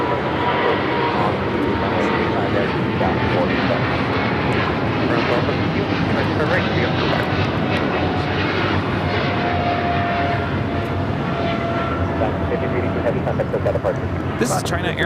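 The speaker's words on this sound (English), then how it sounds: "This is China Airlines cargo 5382 taking off to Miami on the 777 freighter." A China Airlines Cargo Boeing 777 freighter takes off, its engines a loud, steady roar that holds throughout, with people talking over it.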